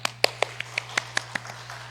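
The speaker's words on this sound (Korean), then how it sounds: "자, 박수." A congregation at a Sunday morning worship service gives a short run of sharp hand claps at an even, quick rhythm over a low steady hum, fading slightly toward the end.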